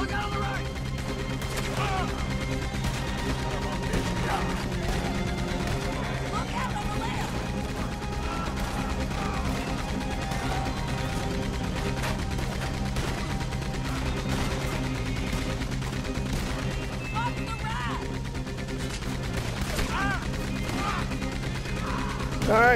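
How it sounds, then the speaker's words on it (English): A Red Dead Redemption 2 shootout brings repeated gunshots and rapid fire in bursts over a dense, steady background of game sound and action, loud and sustained. "I'm not used to having this many bullets to fire."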